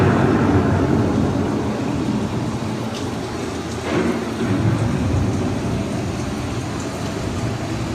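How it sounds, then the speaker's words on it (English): Storm effects on an indoor theme-park ride at Epcot: a steady roar of heavy rain with low rumbling thunder swelling through it, loud and continuous. "The approaching storm may seem violent and destructive to us, but to nature, it's a new beginning."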